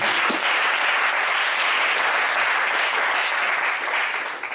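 A church congregation breaks into loud, sustained applause, a dense, even roar of many hands clapping that holds steady throughout, with no voices standing out.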